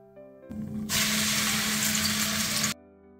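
Onion goes into hot oil already holding bay leaves and cinnamon, bursting into a loud sizzle that lasts about two seconds before cutting off abruptly.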